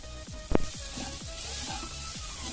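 Soaked flattened rice (poha) stirred into a hot pan on the stove, giving a steady low sizzle with a sharp clack of the spoon against the pan near the start and soft scraping strokes repeating through the rest.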